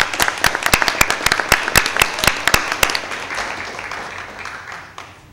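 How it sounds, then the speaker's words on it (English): Scattered applause at a school board meeting: individual claps ring out sharply and close at first, then thin out and fade to a few last claps near the end. "Maybe a round of applause for all of those."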